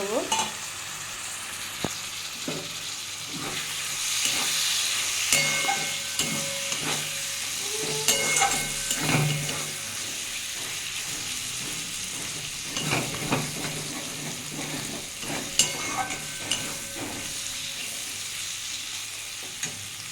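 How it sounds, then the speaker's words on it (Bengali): Fried prawns are stirred and sautéed in a pan for kochur loti, giving steady sizzling and frying hiss with repeated scraping stirs of a utensil throughout. "আমি এবার ভাজা চিংড়ি মাছগুলো দিয়ে আর একটু কষিয়ে"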